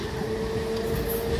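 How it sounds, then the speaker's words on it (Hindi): A down local train runs toward Hooghly railway station with a steady, close rumble of wheels and carriages and a constant low hum throughout. "Down local train Hooghly railway station के तरफ जा रहा है।"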